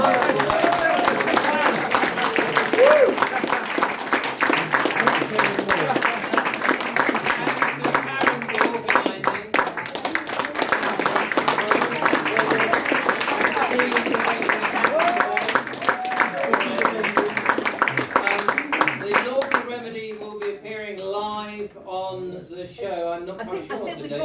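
A crowd at a talk in Buxton claps steadily and loudly for about twenty seconds, a dense, continuous patter of many hands with a voice running through it. The applause then stops abruptly and the voice carries on alone.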